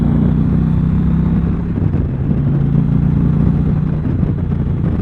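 An Indian motorcycle engine revs loudly and close by, a steady throaty roar with a slight dip and swell in the throttle and no talking.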